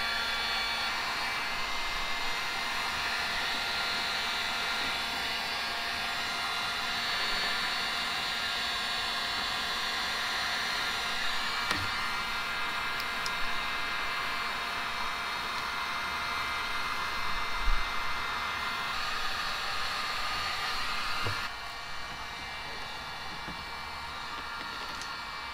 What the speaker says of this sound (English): I'm going to use the heat gun on low.